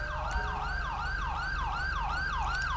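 Ambulance siren in the GTA V LSPDFR mod, a steady repeating wail sweeping up and down in regular cycles, clear and continuous over a low engine rumble, with no talking.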